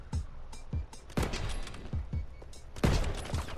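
Call of Duty WW2 team deathmatch gunfire rings out in sharp, uneven bursts, several distinct shots with some overlapping clusters, fairly loud over a low in-game background.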